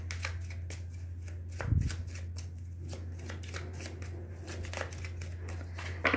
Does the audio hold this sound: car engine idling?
no